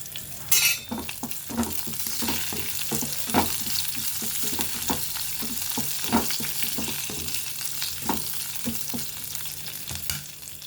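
Curry leaves crackle and sizzle in hot oil as a tempering for a spicy brinjal-tomato chutney, giving a steady close fry with repeated sharp pops and spoon stirring clinks throughout.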